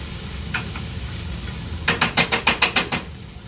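Onions and garlic sizzle softly in a pan under a quiet steady hiss, then a quick run of about eight sharp rhythmic clicks or scrapes, like a utensil tapping or a burner igniter, rings out near the end.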